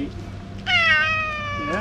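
A cat lets out a single loud, drawn-out meow close by, under a low background rumble.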